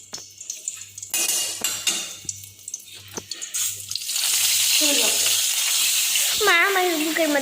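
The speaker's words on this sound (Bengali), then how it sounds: "এখন আমি ডিমগুলো ভেজে নেব" Eggs are fried in a pan in a home kitchen, starting with quiet clinks and handling noises, then a loud continuous sizzle builds from about four seconds on, with voices briefly heard over it.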